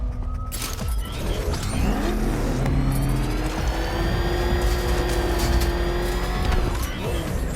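Cars racing in Batman: Arkham Knight bring a continuous roaring engine, rising and falling as it revs and accelerates, with tire squeals and skidding layered over the loud, close drone.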